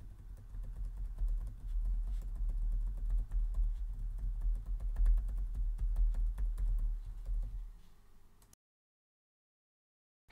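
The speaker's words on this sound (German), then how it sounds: "HyperX, Klappern, Laptop-Tastatur." Rapid clattering keystrokes on a laptop keyboard, picked up close by a HyperX Quadcast microphone, run steadily for about eight seconds and then stop dead into silence.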